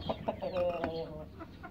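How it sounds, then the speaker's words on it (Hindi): Chickens cluck nearby in a short burst of quick, squawky calls, fairly faint and close together. "ये देखे पहले सारी मुर्गी को छोड़ देते हैं।"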